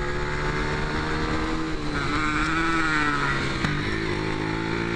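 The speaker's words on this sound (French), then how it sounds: "Le moteur qui chante, non ce n'est pas une moto électrique." A motorcycle engine on a race circuit, steady and loud throughout, its note holding a sustained drone with slight rises in pitch, close and continuous with no one speaking.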